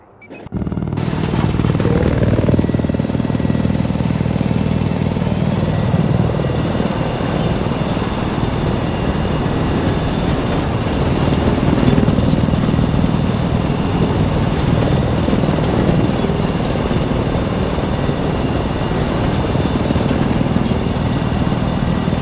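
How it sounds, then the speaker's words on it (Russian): Helicopter engine and rotors in the video game Battlefield 4, a steady loud whine and thrumming drone that starts up at once and runs continuously throughout. "Садись в вертушку."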